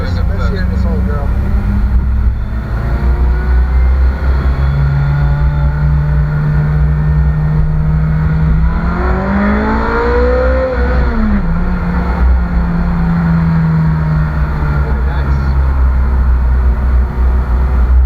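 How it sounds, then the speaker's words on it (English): A Ferrari engine drones steadily, then rises in pitch as it revs harder climbing a hill, dips, and settles again, loud and close throughout. "Tony, give it a bit of beans up this hill."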